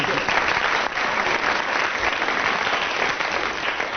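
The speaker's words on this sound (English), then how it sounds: "Right, round of applause for Graeme Garden," Studio audience applause for Graeme Garden on a radio comedy panel show, a strong sustained round of clapping from a packed room lasting several seconds with only a slight dip partway, no speech over it.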